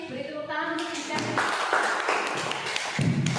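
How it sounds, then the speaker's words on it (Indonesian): A group claps in a classroom or teacher workshop, with brief rapid claps and taps that start after a short bit of speech and carry on under voices. "Beri tepuk tangan untuk kita."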